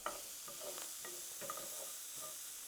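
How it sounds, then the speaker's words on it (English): Chopped onions fry in oil in a pan for a cannellini, spinach and sausage dish, giving a quiet, steady sizzle broken by a few soft stirring scrapes. No voices are heard. "So let's throw in our onions."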